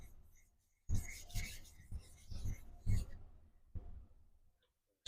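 A vintage Schenectady, NY straight razor having its bevel set on a sharpening stone, heard as soft, close scraping strokes in an irregular back-and-forth rhythm, quiet overall with brief pauses between passes.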